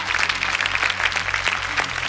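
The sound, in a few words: audience applause at a gala show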